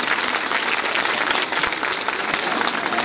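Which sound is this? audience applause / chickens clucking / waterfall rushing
audience applause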